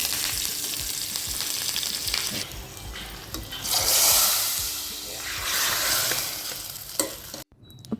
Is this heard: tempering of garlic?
yes